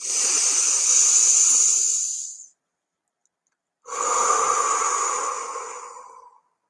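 Deep belly breathing during a mindfulness exercise: one long, airy breath lasting about two seconds, a pause of silence, then a second long breath, both close and breathy, with no talking.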